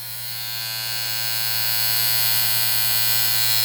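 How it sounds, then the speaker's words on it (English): A Supreme Trimmer Company hair trimmer runs steadily after being switched on, giving off a close, continuous electric buzz with a bright whirring edge and a low hum that builds slightly over the first moments. "And then we're gonna give this trimmer a nice run."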